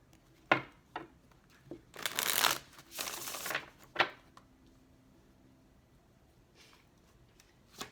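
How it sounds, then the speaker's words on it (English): Tarot cards are riffled and shuffled in a few quick bursts, with taps and soft handling sounds between them, close and fairly loud, no talking. "We got one more shuffle."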